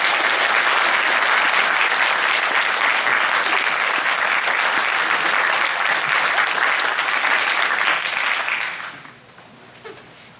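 A packed-house audience in Raleigh applauds as Mike Church is introduced. Dense, loud clapping holds steady for about nine seconds, then quickly tapers off into quiet.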